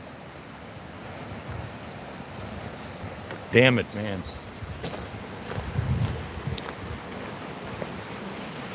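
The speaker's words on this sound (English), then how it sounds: "This is all pretty fast water here. You can hear it." Fast water rushing through a river around log jams, a steady broadband roar heard close by throughout, with a man's brief exclamation and some wind noise on the microphone.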